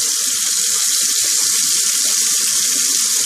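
Cold tap water pours steadily for rinsing after a shave, a close, even rushing stream that stays loud and unbroken throughout with no talking.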